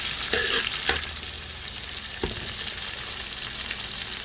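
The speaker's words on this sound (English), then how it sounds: "we're going to go in with the garlic and allow that to fry up in there for like just a couple seconds" Garlic frying in hot oil with onions for fried okra, a steady close sizzle with a few sharp clatters of stirring near the start and middle, no voices.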